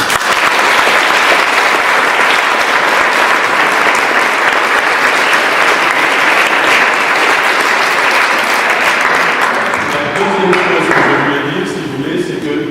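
A large crowd applauds loudly and steadily for several seconds, the clapping dense and sustained before thinning out near the end.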